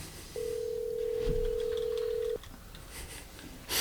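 During a phone call, a single steady ringback tone sounds through the handset for about two seconds, clear and even, over faint background noise with a brief thump partway through.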